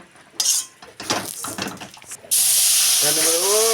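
Water poured into a hot pan of fried vermicelli erupts into a loud, steady hiss of steam that starts abruptly and holds, following a few clinks and kitchen handling sounds with a brief voice nearby.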